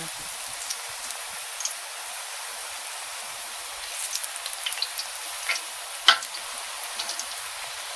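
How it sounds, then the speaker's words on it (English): Quinoa turmeric potato chips frying in hot oil, a steady soft sizzle with scattered crackles and pops, one sharper pop standing out, and no voices. "how these are going to fry up nice and crispy"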